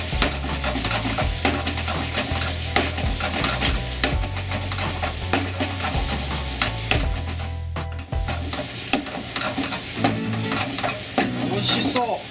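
Unsalted butter dropped into a pan of simmering Japanese potatoes (nikkorogashi), giving a steady sizzle and bubbling with occasional stirring scrapes throughout, fairly close and continuous.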